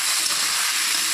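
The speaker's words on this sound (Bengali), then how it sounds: "আলুটাকে পেঁয়াজের সঙ্গে ভালো করে ভেজে নেব" Potato pieces fry with onion in a pan, giving a steady, close sizzle with a constant hiss and no break.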